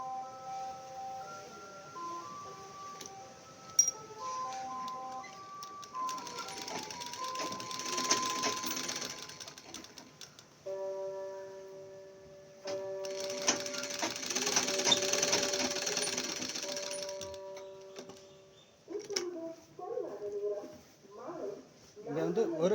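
A sewing machine stitches a chudidar pant in two steady whirring runs of several seconds each, while someone talks quietly between and over them.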